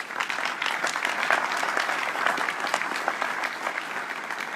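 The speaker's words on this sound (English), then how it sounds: "Please give them a round of applause." A seated audience at an indoor fall update meeting in Indianapolis gives steady, dense applause that holds at an even level the whole way through, with no speech over it.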